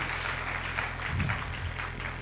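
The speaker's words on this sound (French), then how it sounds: "Applaudissez très fort pour le Seigneur." An audience at a church sermon claps for the Lord, a brief burst of dense, steady applause at moderate volume.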